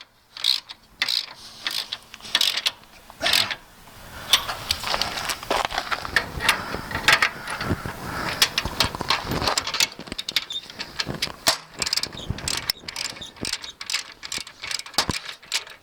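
An adjustable wrench works on trailer jack bolts with close, loud ratcheting clicks and metallic clanks in irregular bursts, with short pauses between the turns.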